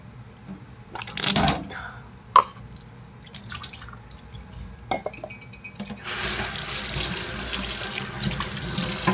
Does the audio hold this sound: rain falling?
no